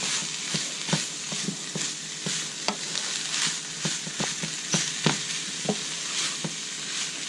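Ground beef picadillo sizzles in a pan over medium heat while a utensil stirs it, and the scrapes and taps land at an irregular pace over a steady close frying hiss with no one speaking.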